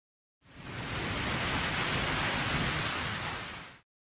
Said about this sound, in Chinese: 晚上十点，一场大雨不期而至